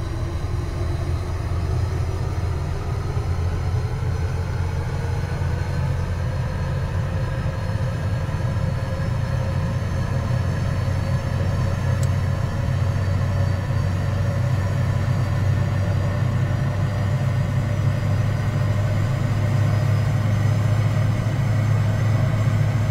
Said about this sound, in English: allow you to listen to the engine spool up sounds